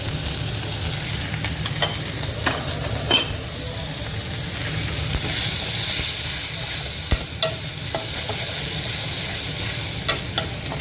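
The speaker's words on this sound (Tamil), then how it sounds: "ஒரு 5 நிமிஷம் வதங்கட்டும்." Chickpeas (kondakadalai channa) sauté in a pan with a steady, loud sizzle and frying hiss, broken by occasional clinks and scrapes of a spoon stirring against the pan.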